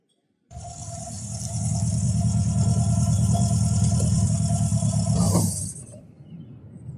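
A car engine starts abruptly and runs with a steady, rumbling hum for several seconds, rising slightly before cutting back to a quieter idle near the end.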